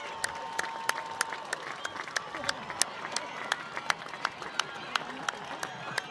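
A high school football crowd applauds and cheers at a Bellingham Black Hawks vs. Ashland Clockers game, with steady rhythmic clapping and a general crowd roar, some voices talking underneath.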